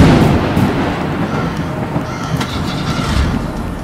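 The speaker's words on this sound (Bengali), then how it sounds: "দূরে এক বিকট আওয়াজ করে বজ্রপাত।" Deep, rolling thunder rumbles loudly and continuously, with low booming surges and faint patter beneath, used as a sound effect in a Bengali horror story set on a night at the Kamakhya temple in Meghalaya.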